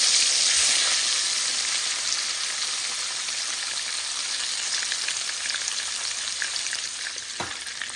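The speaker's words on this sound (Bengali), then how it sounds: "তো এই যে এখানে সার্ডিন ফিশ ফ্রাই করতেছি।" Sardines fry in a pan with a steady, close hissing sizzle that fades slightly over time, with a faint spatter of pops and one brief knock near the end.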